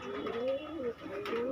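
Close, steady cooing from a red-tailed white Maya pigeon, several rolling throaty coos running together across the moment with a brief dip midway.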